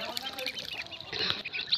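Young native ducks about two months old, raised on a pond, give short, quiet quacks and squawks in a rapid scattered run, faint and close.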